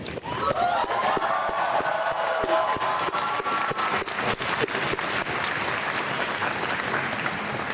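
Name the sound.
audience applause for faculty at a commencement ceremony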